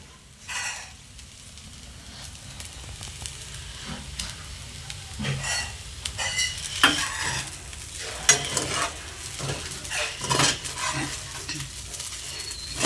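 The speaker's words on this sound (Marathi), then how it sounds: "आता मिक्स करून घेत आहे" Sabudana khichdi being stirred in a pan at home, a soft sizzle under repeated spoon scrapes and clinks against the metal, close and moderately loud, coming in irregular bursts.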